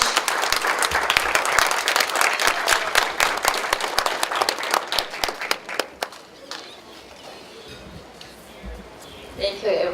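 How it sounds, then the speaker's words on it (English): Audience at a gala awards dinner applauding, a dense burst of close clapping that thins out and fades after several seconds, leaving quieter room sound. "So please give a big applause for Amy to give us the opening introduction"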